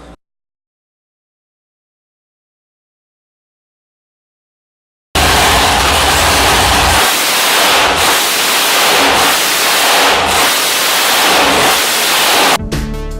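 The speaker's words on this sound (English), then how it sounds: "This is a street motor. This is our hot rod series. It's got a 1471 billet blower, dual 1000 Hollies" Hot rod street engine with a 1471 billet blower and dual 1000 Holley carburetors roaring loudly at high revs after about five seconds of silence, a harsh sustained blast with rhythmic surges.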